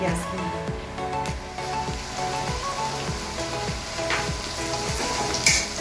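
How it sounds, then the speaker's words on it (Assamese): Chopped onions sizzle in hot oil with whole cumin seeds in an Assamese fish curry pan, a steady crackling fry with occasional stirring scrapes while someone talks over it. "পিঁয়াজখিনি আমি অলপমান জুইটো বঢ়াই দি পেলাই ৰঙচুৱাকৈ ভাজি লওঁ"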